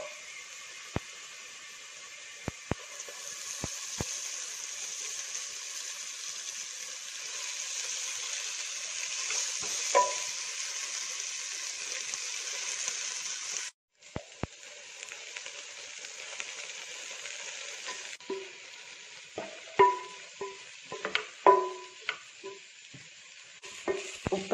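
Drumstick leaves for a Kerala thoran stir-fry in a pan, a steady sizzle broken by scattered clinks and scrapes of a spatula against the metal, with no voices.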